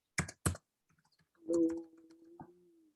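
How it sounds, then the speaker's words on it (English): A few quiet clicks from a computer keyboard as a chat message is typed: two crisp keystroke bursts at the start, scattered faint ticks, then a short humming tone near the end. "I'm going to type a message in the chat."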